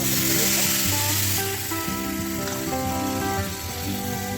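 Bitter gourd pieces fry in oil with cumin powder and spices for a tamarind curry, giving a steady, close, rain-like sizzle under tonal background music.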